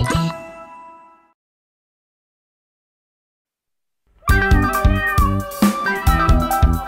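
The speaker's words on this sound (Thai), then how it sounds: "เธอได้ยินเสียงลูกแมวน้อย3ตัวไหม" Kittens meow in a children's Christmas song, a short meowing phrase with chimes that fades to silence before bright, loud music with jingling bells starts up.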